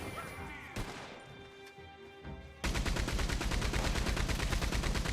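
A minigun fires in Red Dead Redemption 2, starting with scattered shots and clatter before breaking into a loud, rapid, sustained burst of rattling gunfire that lasts the second half.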